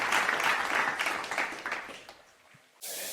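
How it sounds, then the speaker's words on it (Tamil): A Tamil stage audience at a Navaratri Amman devotional event gives a burst of applause that swells early, then thins and fades away, followed by a sudden loud noise at the very end. "சிறப்பான கைத்தட்டல் கொடுத்துடலாம்."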